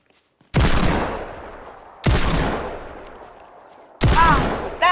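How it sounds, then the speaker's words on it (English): Three loud, sharp gunshot blasts in Fortnite gameplay, evenly spaced about two seconds apart, each cracking suddenly and ringing out in a long decaying tail, with no talking. "I heard gunfire!"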